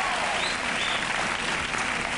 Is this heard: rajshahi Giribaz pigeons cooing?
no